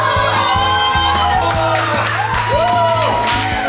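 Sports fans cheer and whoop loudly in a crowded sports bar, their voices layered over steady thumping music with a pulsing beat throughout.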